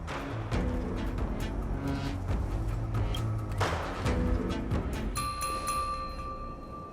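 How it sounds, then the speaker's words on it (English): In Honkai: Star Rail, a harmonic chime rings out near the end as a sustained, bell-like layered tone over a busy, steady game soundscape, with no speech. "We could try ringing the harmonic chime."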